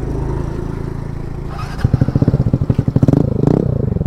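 Royal Enfield Hunter 350 motorcycle with a loud exhaust idles, then revs hard in rapid throttle blips, producing a close, thumping, popping engine note that grows louder and more aggressive.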